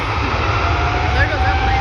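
A plane passes at Vancouver airport, a loud jet engine roar with a thin whining tone that slides slightly in pitch, heard up close over the short span.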